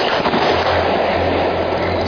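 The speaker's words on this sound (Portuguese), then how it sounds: "alguém solta fogos de artifício em direção à luz" A dense, continuous crackling and popping of fireworks set off toward a light in the sky in the Amazon, loud and steady, with no voices.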